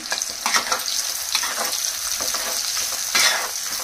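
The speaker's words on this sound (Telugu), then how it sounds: "కట్ చేసి పెట్టుకున్న ఆనియన్స్ వేసేసుకుంటున్నాను" Chopped onions frying in peanut oil for chicken kurma, crackling and sizzling up close while a utensil scrapes and stirs through them in irregular strokes, no talk.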